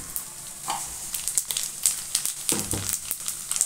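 Fenugreek seeds, cumin and fennel hit hot oil for a Himachali kachnar pickle, crackling and sizzling close up with a busy stream of small pops and stirring scrapes.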